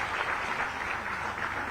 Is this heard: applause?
yes